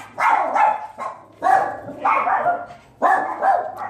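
Puppies barking indoors in three bursts of two quick barks each, close and fairly loud, with a steady low hum underneath.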